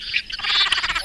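A frog calling in a rapid pulsed series of croaks, fairly loud and close, with no voices present; the call comes from an Australian frog recorded for a citizen-science survey.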